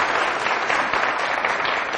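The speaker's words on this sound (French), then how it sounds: "on va l'applaudir encore plus fort" A studio audience on a French-language morning TV variety show claps steadily and densely for about two seconds, a full, even wash of applause with no voices rising above it.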